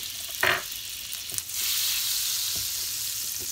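Butter melting and frying in a pan for chicken pastilla, a steady close sizzle that swells after a brief clatter at the start and keeps hissing evenly with no talk.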